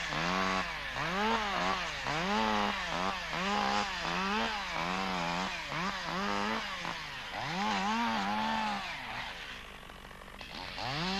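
A two-stroke chainsaw limbing a felled tree trunk, in a 1985 forestry setting, revs up and down in a steady rhythm of rising and falling whines as branches are cut one after another, loud and close throughout.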